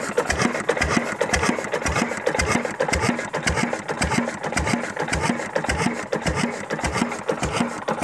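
An old engine, just started by hand crank, runs with a steady, rapid, even chugging beat, loud and close, with no voices.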